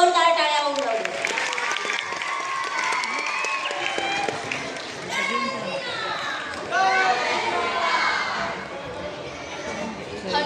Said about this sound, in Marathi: पालकांच्या विद्यार्थ्यांच्या आनंदासाठी जोरदार टाळ्या होऊन जाऊ द्या.